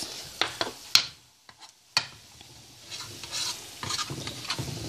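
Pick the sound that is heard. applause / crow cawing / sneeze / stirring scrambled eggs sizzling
stirring scrambled eggs sizzling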